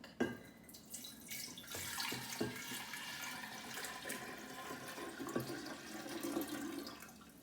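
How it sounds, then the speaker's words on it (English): Sweet tea mixture being poured into a gallon jug, a steady splashing liquid stream with a few clunks of handling, fairly quiet and close. "we are going to pour our new sweet tea mixture into a gallon jug."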